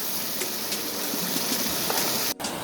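A waterfall in Sri Lanka pours steadily beside an outdoor cooking spot, a constant broadband rushing roar close by, with no talk.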